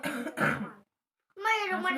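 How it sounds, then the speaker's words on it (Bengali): A few sharp coughs from a person at home, then a pause before a voice begins speaking. "কাশি"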